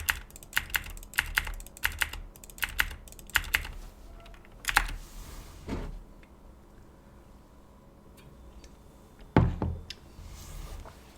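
Clacky keystrokes on a Razer BlackWidow mechanical keyboard come in quick bursts of typing, then a few isolated taps and a louder final key press, close by with no one speaking.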